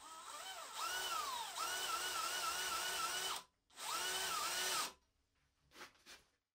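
A DeWalt DCD999 cordless hammer drill driving a long 10 x 500 mm bit, its motor whining steadily at high pitch, stopping briefly and restarting, then cutting off, followed by a couple of faint clicks.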